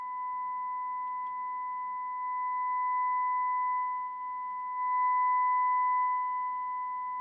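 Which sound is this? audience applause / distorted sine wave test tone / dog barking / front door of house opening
distorted sine wave test tone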